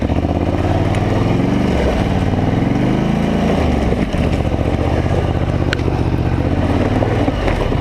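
A Scrambler 850 ATV engine labours steadily in low gear while crossing a thick frozen pond in winter storm conditions, a loud continuous rumble with shifting pitch as the revs rise and fall.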